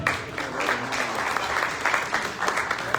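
A room full of people at a lunch meeting claps in steady, sustained applause with no break, fairly close and even in loudness.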